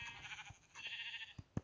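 A sheep bleats in Minecraft, a brief wavering nasal bleat close up, followed by a couple of sharp thuds as it is hit.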